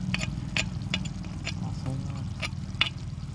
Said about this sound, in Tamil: எப்படி கொதிக்குது பாருங்கள்